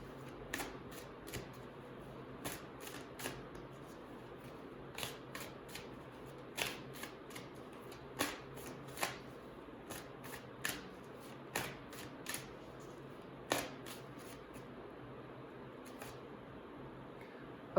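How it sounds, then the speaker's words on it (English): A deck of oracle cards is shuffled by hand close up, giving soft, quick riffling flicks and taps in an irregular run, with no talking. "now let me pick an advice card for you for the overall situation"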